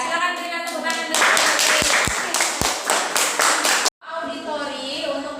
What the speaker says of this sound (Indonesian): silakan berikan tepuk tangan dulu